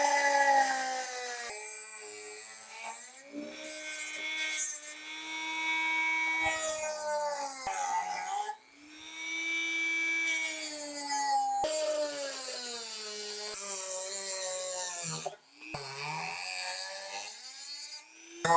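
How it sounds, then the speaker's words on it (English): A cutting wheel grinds through the edges of a metal key head, a loud continuous whine with shifting pitch that dips briefly where the cut pauses, then resumes. "now I'm going to use the cutting wheel to cut off the edges of this key head"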